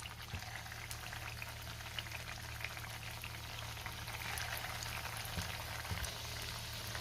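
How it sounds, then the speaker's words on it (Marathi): Aloo tikki patties fry in hot oil over a low flame, producing a steady, gentle bubbling sizzle with occasional faint pops, close and continuous with no talking. "तेल गरम झालंय, त्यावर आता आपण ह्या टिक्क्या ठेवूया।"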